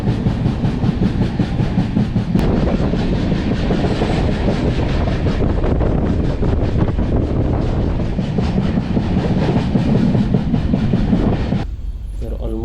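Steady, loud rumble and rattling clatter inside a moving passenger train approaching Thane station on a Ratnagiri-to-Mumbai journey, continuous for most of the stretch before dropping away abruptly near the end.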